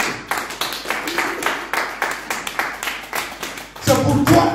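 A congregation claps rhythmically in steady repeated bursts during a Christian worship service, the hand claps close and lively, ending in a louder swell of clapping and voices.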